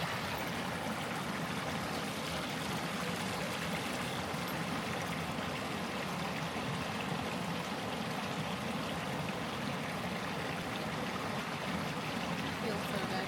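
A cold forest river rushes over rocks in a continuous, even wash of hissing water, steady and moderately distant with no break in the flow.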